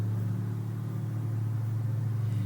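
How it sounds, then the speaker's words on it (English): A lawn mower drones faintly in the background, a steady low mechanical hum that holds unchanged throughout with no voices over it. "Sorry if you can hear a noise in the background, that's Clive mowing the lawn"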